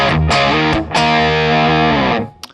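Distorted channel of a guitar amplifier via a Digitech RP1000 system: a few thick, saturated guitar chords with heavy sustain, loud and close, ending in a brief tail and a small pick noise.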